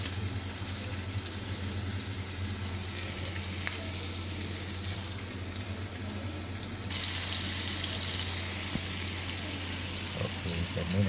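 Pomfret fish frying tawa-style in hot oil, a loud steady close sizzle with a dense hiss that continues unbroken throughout, brightening partway through, with no talk.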